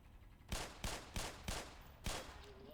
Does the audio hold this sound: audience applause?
no